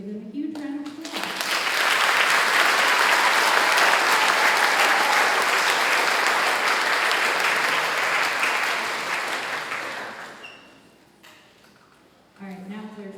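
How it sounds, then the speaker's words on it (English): A crowd at a middle school spring orchestra concert bursts into loud, sustained applause that swells, holds for several seconds, then fades out, with talking briefly before and after. "give them a huge round of applause."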